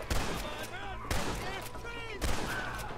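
Three sharp gunshot blasts at roughly one-second intervals in the video game Red Dead Redemption, over a background of game sound effects and faint talk.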